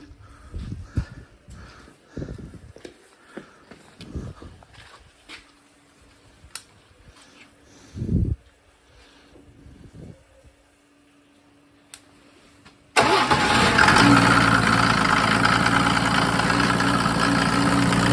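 A Mercedes OM603 3.0 diesel with a mechanical injection pump, mounted on a PN-40 motor pump, cranks and fires abruptly into a loud, steady, close idle after quiet handling noises.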